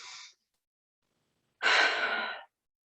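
Slow, deep breaths during a gentle yoga session, a short exhale at the start and then a fuller, airy breath out after a pause, close and clear in a quiet room.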